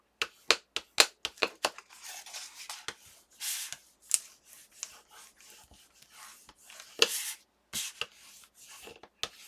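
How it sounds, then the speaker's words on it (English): Adhesive sheet being burnished down onto a binder page for storing large dies, heard as a series of short, close rubbing and scraping strokes in bursts, some sharp and quick, others longer and softer, with no talking. "I'm just going to make sure I burnish it down"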